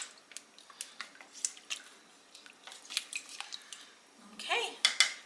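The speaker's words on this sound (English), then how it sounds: "Stir it around just a little bit." Cream cheese being stirred into chicken in a slow cooker, giving faint wet squishing and soft scraping of a utensil against the pot, with a few louder squelches near the end.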